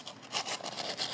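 Pencil lead is rubbed against fine sandpaper to grind a long needle point, making soft, rhythmic scratchy strokes close by.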